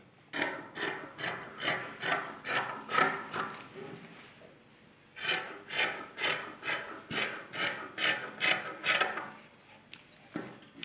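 Scissors cutting fabric for a jumpsuit, a close rhythmic series of crisp snipping strokes in two runs separated by a brief pause.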